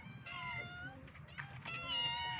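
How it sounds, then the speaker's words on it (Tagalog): Several cats at a neighbour's home meow over one another, high wavering cries overlapping continuously at close range, with a low background murmur underneath. "Dito nakatira yung mga pusa."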